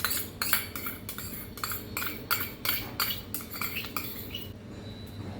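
A spoon clinks rhythmically against a bowl while mixing mayonnaise and tomato sauce together, steady repeated scraping taps at close range with no voices.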